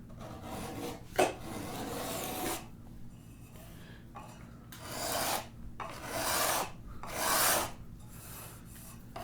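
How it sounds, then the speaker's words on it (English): A card scraper smooths a rough surface in several quiet rasping strokes: one long scrape followed by three shorter ones, close by, with no talking. "I'm going to come in and clean that up with a card scraper"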